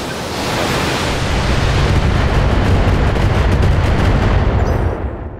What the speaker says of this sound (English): Allow my missile mechs to destroy the turrets.